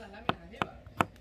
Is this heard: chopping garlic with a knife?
yes